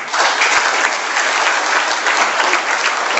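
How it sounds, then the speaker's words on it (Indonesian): Audience applause at a grand launch event in Jakarta, Indonesia: dense, steady clapping from a large crowd, loud and sustained throughout without a break. "Berikan aplaus dulu."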